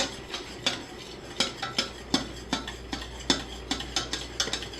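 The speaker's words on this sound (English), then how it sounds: "We're just going to keep stirring." A spoon stirs keto toffee in a pot, scraping and clinking against the metal in a steady rhythm of close, distinct strokes roughly every half second, with no talking.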